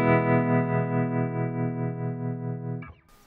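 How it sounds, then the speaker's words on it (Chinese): A sustained guitar chord through a JAM pedals Harmonious Monk tremolo on its sine-wave setting swells and dips in smooth, rounded pulses, loud and alone, then is cut off near the end by a brief scraping noise. "也就是通常情况下我们传统的颤音效果器的那种圆圆的波形，应该是叫正弦波"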